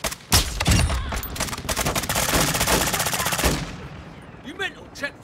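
Heavy automatic gunfire in a large-scale military shooter ground war match, a loud sustained burst of rapid shots with a few sharp single cracks, fading into softer distant pops near the end.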